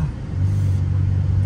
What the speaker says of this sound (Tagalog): First time ko mag-drive ng aking muscle car